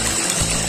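Water gushing steadily from a 1hp Goulds submersible pump, a continuous broadband rush filling the whole short stretch, close and fairly loud with no pauses.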